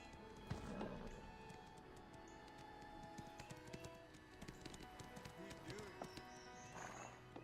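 Horse in the Black Desert Online video game, with hoof clip-clops and a neigh heard at moderate level amid other game effects, while someone talks over the action.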